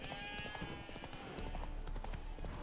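Hooves of the horse Roach clopping in The Witcher 3: Wild Hunt, a quick, uneven patter over an ambient game background with a faint tonal hum.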